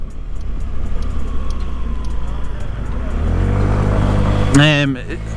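A car approaches and passes on a road, its tire and engine noise building steadily over a few seconds to a loud close pass, heard from a small 50cc scooter riding along, with a brief voice at the end.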